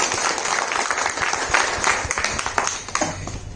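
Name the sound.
audience applause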